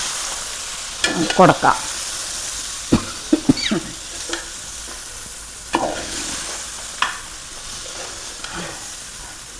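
Cooked tapioca pieces are mashed and stirred in a pan for tapioca biryani, giving intermittent scraping and knocking strokes over a faint background sizzle, with a brief spoken word.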